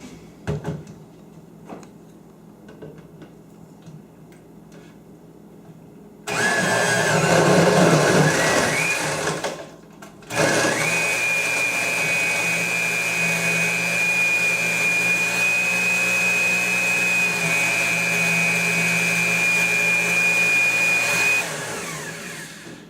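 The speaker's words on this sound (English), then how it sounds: "Take that over to the blender and mix it all up." A blender whirs loudly with a steady high-pitched motor whine for about ten seconds, after a brief earlier burst of mixing.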